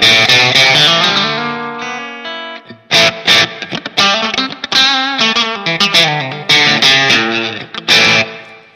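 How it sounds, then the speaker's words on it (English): Electric guitar, a Stratocaster played through a Line 6 Pod HD500 multi-effects unit on its stock Strat patch, with sustained chords and single notes ringing out, then choppier strummed phrases with heavy reverb tails, played alone and fairly loud. "let's just start with a Strat"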